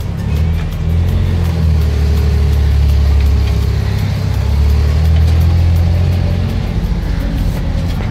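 A 1969 Jeepster Commando with a full roll cage cruising down a road, its engine a loud, steady low rumble under constant road and wind noise, swelling slightly as it pulls along.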